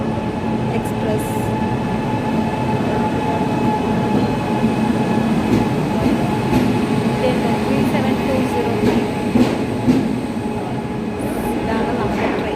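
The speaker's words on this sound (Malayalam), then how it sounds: "ഇങ്ങനെ ഞങ്ങളുടെ ട്രെയിൻ വരുന്നു. ചെന്നൈ മംഗലാപുരം എക്സ്പ്രസ്." The Chennai–Mangalore Express pulls into a station with a loud, sustained rumble of wheels on rails, occasional squeals and clatter, while people talk nearby.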